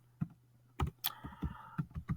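Several quick keystrokes on a computer keyboard as text is entered into a PowerPoint slide, sparse clicks with a short tonal beep midway, quiet and close.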